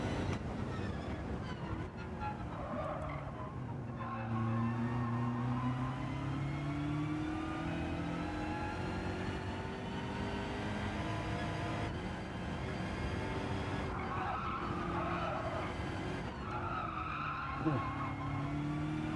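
BMW race car in Gran Turismo 7 with a steady engine drone rising and falling through gears, and repeated tyre squeals and skids through the corners, under continuous game audio.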